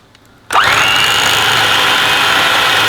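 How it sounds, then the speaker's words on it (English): An electric whisk switches on abruptly and runs at a steady high-pitched whir, beating mascarpone cheese for tiramisu, loud and close with no voices. "the second step is we're going to whisk the mascarpone cheese"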